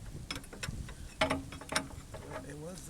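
Metal clicks and ratcheting taps from a wrench worked on an International 100 E tractor, a few sharp bursts spread across a short quiet stretch, close by.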